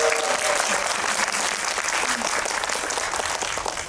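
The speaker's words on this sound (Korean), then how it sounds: "박수 좀 부탁드립니다." Sustained, dense applause from a cinema audience at a film screening and guest visit, steady and full throughout, loud and close with no pause.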